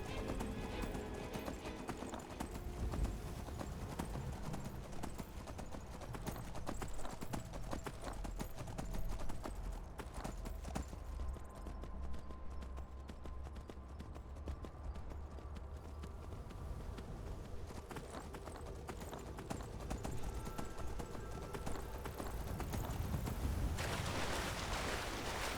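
Horse hooves clip-clop steadily in Skyrim, a continuous rhythmic trot with occasional faint whinnies, fairly quiet and unbroken across the whole stretch with no talking.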